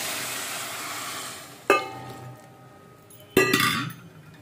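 Milk, a full litre, goes into carrot halwa frying in a pan, with sizzling that gradually fades and two sharp metallic clinks of utensils against the pot.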